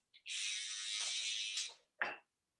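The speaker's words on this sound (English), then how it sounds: "just using clipper over comb in the nape area" Electric hair clippers cut hair over a comb at the nape during a barbering session, giving a close, quiet buzzing pass of over a second, then a short second burst.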